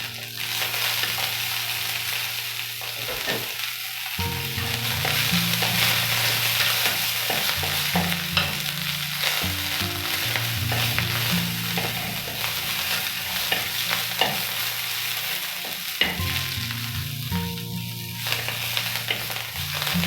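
Onions with added coriander sizzle steadily in a hot pan, a dense continuous frying hiss with occasional stirring scrapes, close and fairly loud, with no talking.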